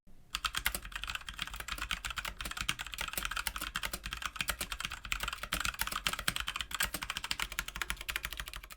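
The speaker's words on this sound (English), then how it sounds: "Here's a quick sound test of the TTC browns in the Roccat Suora FX." Steady, rapid typing on a Roccat Suora FX frameless mechanical gaming keyboard with TTC brown switches: dense, crisp key clicks and clacks in a continuous close-up run, no voices.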